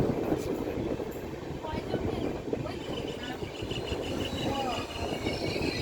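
The traditional Darjeeling Mail passenger train rolls into Haldibari International Railway Station, a steady broadband rumble of moving rail cars with faint clanking, continuous throughout, with a voice talking over it.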